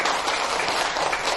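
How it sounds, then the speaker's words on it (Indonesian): Seminar audience clapping on cue at a speaker's talk, a steady continuous round of applause from a crowd, even in level from start to finish. "Ayo dong, tepuk tangan dong teman-teman semuanya"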